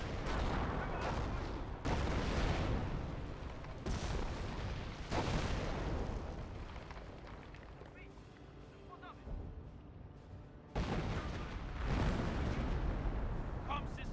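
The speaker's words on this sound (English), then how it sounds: "artillery looks like being brought in, or maybe a creeping barrage" Artillery creeping barrage in Company of Heroes 1, a series of heavy booming impacts and gunfire in repeated loud waves, separated by brief quieter gaps, under a commentator's voice.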